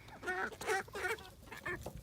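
Free-range hens clucking close by in a brooder pen, a short series of four or five distinct clucks with brief gaps between them, with no talking.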